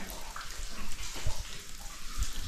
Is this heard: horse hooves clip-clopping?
no